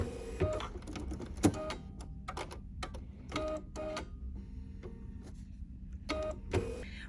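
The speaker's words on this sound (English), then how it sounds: "this is going to do like a little blanket stitch that'll enhance that teal stitch that we just created" A Bernina 880 Plus sewing machine runs a red blanket stitch in short bursts, its rapid mechanical whir starting and stopping several times between pauses, close and moderately loud.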